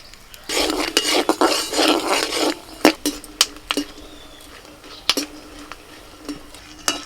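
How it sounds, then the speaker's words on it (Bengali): Fennel seeds and peanuts lightly frying in a little oil, a brief sizzle at the start followed by repeated sharp metal clinks and scrapes of a spoon against the pan, close and with no speech. "কিছু চিনে বাদাম নিয়েছি একটু তেলের মধ্যে হালকা করে ভেজে নেব"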